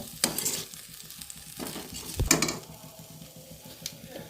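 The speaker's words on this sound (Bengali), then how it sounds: "লঙ্কা গুঁড়ো দিয়ে দেব, লঙ্কা গুঁড়োটা একটু কমই দেব, দিয়ে এটা নাড়তে থাকবো।" A pan of chana masala with chili powder gets stirred over heat, with a soft sizzle under a few spoon scrapes and clatters against the pan.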